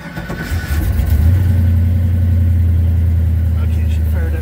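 A 1972 Oldsmobile Vista Cruiser engine cranks and catches, then settles into a loud, steady low rumble that runs close by for several seconds.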